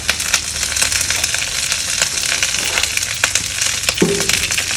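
Scallops sear in a hot pan with steady, loud broadband sizzling and crackling spits from leftover moisture, with one short tonal clink near the end.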